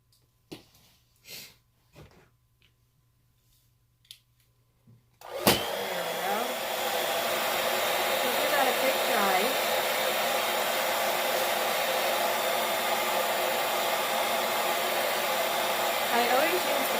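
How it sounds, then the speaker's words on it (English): A hair dryer switches on with a sharp click and runs loudly and steadily, a continuous whooshing roar after a few seconds of quiet taps. "So I got my blow dryer."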